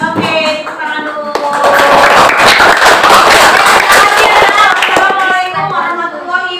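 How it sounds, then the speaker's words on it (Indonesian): A group claps together in a school setting, a steady burst of hand claps rising and then fading, with voices mixed in at the start and end. "tepuk tangan dulu"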